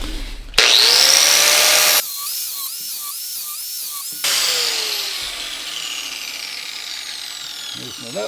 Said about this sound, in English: Grab a grinder.